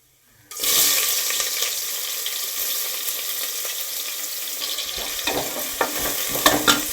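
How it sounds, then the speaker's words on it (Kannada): Onions dropped into hot oil for tempering burst into a sudden loud hiss after a brief silence, then settle into a steady close sizzle with a few crackles and stirring noises near the end. "ಒಗ್ಗರಣೆಗೆ ಈರುಳ್ಳಿ ಹಾಕೋಣ ಅಂತ ಈರುಳ್ಳಿ ಹಾಕ್ತಾ ಇದ್ದೀನಿ ಇವಾಗ"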